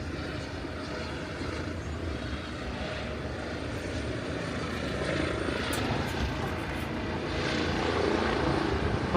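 A helicopter flies near Kennedy Space Center in Florida, its engine and rotor drone a steady rumble that slowly grows louder as it approaches, heard alone without talk.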